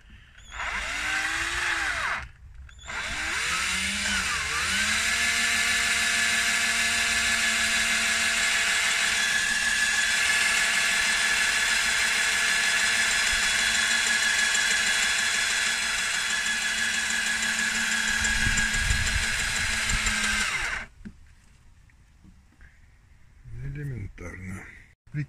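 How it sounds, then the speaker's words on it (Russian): Cordless drill driver spinning a tool to cut valve reliefs into the pistons of a Chery Very A13 engine, a loud continuous high whine running steadily for about twenty seconds after a brief start, then stopping into quieter handling noises. "Шуруповерт."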